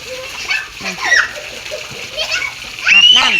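Children play and splash in water during an evening bath, with bursts of splashing mixed with their high excited voices, shouts and chatter close by.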